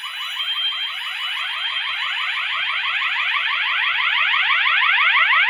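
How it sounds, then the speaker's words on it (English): Wheelock MT fire alarm sounding its high-low tone, a loud, continuous rapid alternating electronic whoop repeating steadily throughout, with no talk. "We got high-low for the Wheelock MT."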